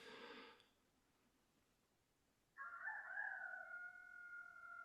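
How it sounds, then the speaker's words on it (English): A loud rooster crow rings out clearly, a single long drawn-out call after a brief burst of noise and a quiet pause. "There's a rooster. Yeah, they're loud."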